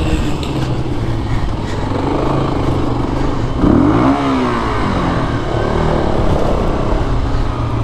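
A Kawasaki KLR motorcycle engine revs loudly and steadily off-road, with a sharp rising rev burst near the middle, close to the microphone.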